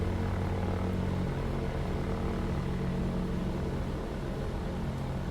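Shark UL ultralight aircraft engine in the X-Plane 12 flight simulator during a slow landing approach with the gear coming down: a steady, loud propeller drone that holds evenly throughout, with no talk.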